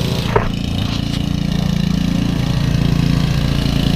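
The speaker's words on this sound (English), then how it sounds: "Enjoy this mowing." A lawn mower engine runs steadily and loudly up close during commercial mowing work, holding a constant, rumbling drone for the whole stretch with no pauses.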